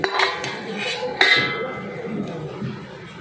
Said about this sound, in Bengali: এবার আমি ঢাকনাটা খুলে নিলাম।